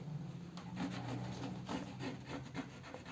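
Scissors cutting through eyelet fabric for a blouse, a series of soft, rasping snips in a steady rhythm, close and quiet against a faint background hum.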